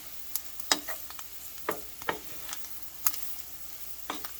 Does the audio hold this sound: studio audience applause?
no